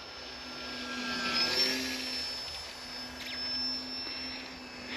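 A Depron FW190 cartoon warbird RC model passes by with an electric motor whine that rises and falls, moderately distant, with a faint high-pitched tone over soft outdoor background.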